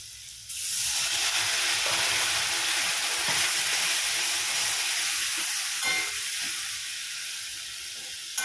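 Spice masala sizzles hard in a pan right after a little water is poured in, a sudden burst of loud steamy hiss that holds steady, then slowly eases off.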